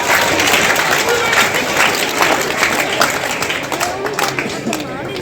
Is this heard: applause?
yes